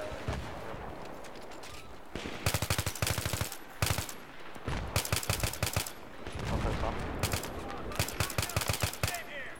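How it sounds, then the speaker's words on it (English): Video game gunfire as snipers shoot, with loud rapid bursts of shots in several clusters separated by short gaps of quieter background noise. "Oh, they're sniping us."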